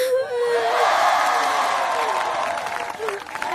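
Village crowd gathered beneath a mango tree, cheering and whooping in a loud, swelling roar that holds steady for a few seconds before thinning out.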